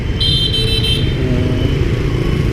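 Street traffic in Saigon, with motorcycles and cars rumbling past steadily and loudly, broken by a short series of high horn toots early on.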